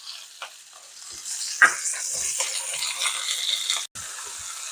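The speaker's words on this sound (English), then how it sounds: "We're going to now add our onion. You can hear it sizzling." Steady, crackling sizzle of onions frying in a hot pan over medium heat, with a few scraping stirs and a brief pause near the end.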